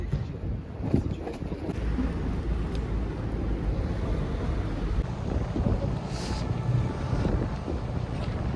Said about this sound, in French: Le vent qu'il y a, c'est une dinguerie.